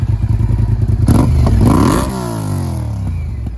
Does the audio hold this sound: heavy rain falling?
no